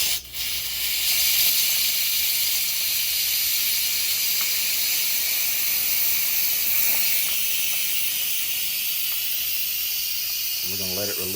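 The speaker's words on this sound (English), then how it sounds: "I'm going to release the steam valve" An Instant Pot's steam valve vents pressure in a loud, steady hiss that runs unbroken for about eleven seconds, then cuts off abruptly into a brief low rumble at the end.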